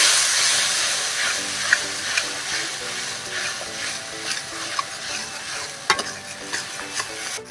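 Ground spice paste is stirred in a hot pan for potol dolma, a steady sizzle with regular scraping strokes and occasional sharper clicks of the spatula, close and alone.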